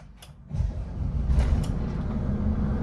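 Diesel PKS city bus engine cranking and catching, a click then a rise into a steady low idle rumble that stays loud and close for the rest of the moment.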